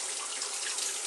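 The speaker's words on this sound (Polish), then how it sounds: "Napełniam naczynie ciepłą wodą, by mieć ciepłą pianę." Warm tap water pours into a vessel for shaving lather, a steady, close, dense rush of water.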